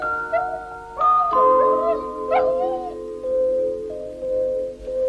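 A loyal dog in an animated children's story whimpers and howls in a series of high, wavering whines over sustained background tones, moderately loud and close.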